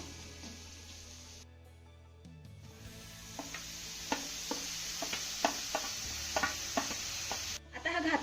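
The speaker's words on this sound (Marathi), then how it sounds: "इथे आपलं सर्व साहित्य चांगलं मिक्स करून झालं की यामध्ये आपल्याला किसलेला भोपळा घालायचा आहे" Grated bottle gourd being stirred into masala in a pan, with soft scraping and a light sizzle building, then a series of sharp spoon taps and clinks against the pan in an irregular rhythm, close and moderately loud.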